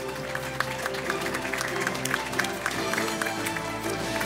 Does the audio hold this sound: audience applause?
yes